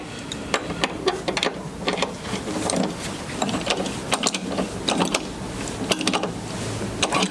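A nylon lock nut is tightened down over a washer and spring, giving a run of close, sharp, irregular mechanical clicks and ratcheting ticks with brief pauses between them.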